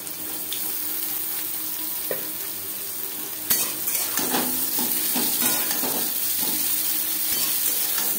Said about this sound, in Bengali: দু 3 মিনিট গাজর, কাঁঠালি বিচি ভেজে নেওয়ার পর দিয়ে দেব কুমড়োর ডাঁটা।